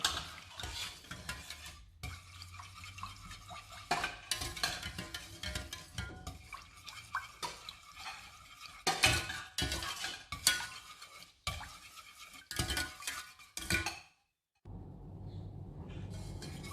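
Cream being mixed in a bowl for a raspberry mousse mirror cake, with steady scraping and clinking of a utensil against the bowl in repeated bursts, close and moderately loud, broken by short pauses.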